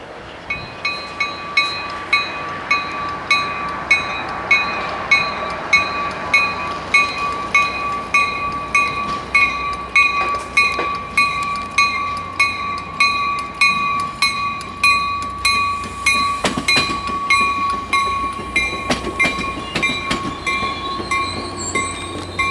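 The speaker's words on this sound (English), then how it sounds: "Here goes Scale Train 265" Scale Train 265, with 118 leading, 120 in the middle and 906 at the back, rolls through Collage Park station. Rhythmic clickety-clack of wheels over rail joints with a steady rumble and high metallic ringing runs throughout.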